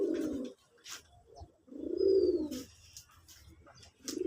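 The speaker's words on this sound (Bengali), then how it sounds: "এই যে পুতুলগুলোর ডাক দেখেন" Deshi putul golla pigeons coo close by in repeated low, throaty bursts, three main calls with pauses between, a faint chirp and light background noise around them.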